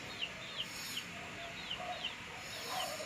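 A pet chicken clucks in short, soft bursts, about five or six clucks spaced roughly half a second apart, fairly near, with light background hiss and no talking.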